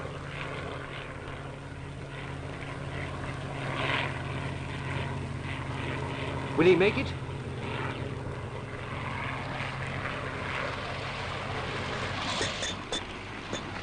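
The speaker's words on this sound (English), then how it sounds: "With that damaged tail, the pilot's finding it hard to control the plane." A propeller airplane with a damaged tail flies past with a steady, droning engine hum that swells slightly midway, and a voice briefly speaks over it.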